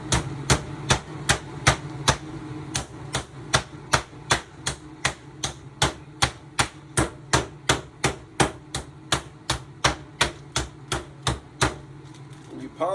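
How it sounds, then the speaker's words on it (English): Chicken for cordon bleu is pounded flat with the flat side of a meat tenderizer: a long, steady run of loud, evenly spaced thuds, about two per second, close up with no talk. "So we're gonna take our old trusty meat tenderizer. We're gonna go on the flat side."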